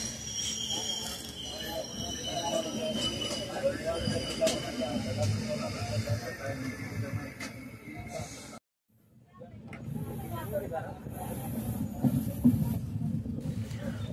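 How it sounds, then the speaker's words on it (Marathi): The Pune–Harangul Express moves on from Kedgaon towards Daund on a foggy morning, giving a steady rumble and rattle with a hiss. A brief gap of near silence breaks it partway through, then the running noise resumes. "केडगाव इथून आपली गाडी पुढे दौंडकडे निघालेली आहे."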